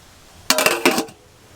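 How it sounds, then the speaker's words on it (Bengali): Metal pot lid lifted off a pot of pulao rice, giving a short burst of clinks and rattles, fairly close and loud, then quiet. "চাপাটা খুলে একবার দেখবো কতটা সেদ্ধ হলো চাল"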